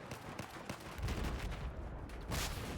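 Battlefield 4 multiplayer combat with mortar fire and gunfire: a quick run of sharp shots, then low, rumbling booms that swell and fade, moderately distant and fairly quiet.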